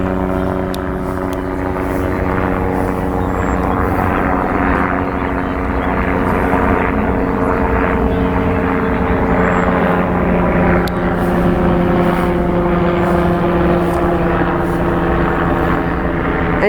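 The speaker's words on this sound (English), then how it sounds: "And yes, that noise is actually a helicopter." A helicopter flies near Lower Manhattan, its rotor drone loud, continuous and steady for over fifteen seconds above faint outdoor ambience, with no speech.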